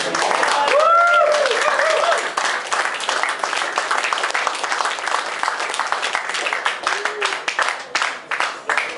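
Sustained applause from a concert audience, a dense wash of clapping that starts full with a few whoops, then thins into scattered, uneven claps as it trails off.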